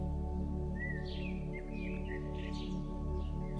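A late bird gives a few faint, scattered chirps over a steady low droning hum, with no one talking.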